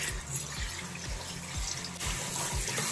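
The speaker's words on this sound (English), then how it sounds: "So I'm gonna rinse it." Tap water runs steadily into a sink as a doll's hair is rinsed beneath it, close and continuous, with a soft splashing rush and a slight shift in the flow near the end.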